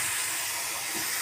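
Turnips drop into hot spiced oil in a pan and sizzle, a dense, loud, continuous hiss heard up close for about a second, with no voices.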